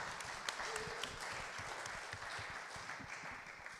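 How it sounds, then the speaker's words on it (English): Audience applause for Kevin and his team at an indoor cultivation event in Sacramento, a steady wash of clapping holding for several seconds with faint voices mixed in. "A little round of applause for Kevin and team."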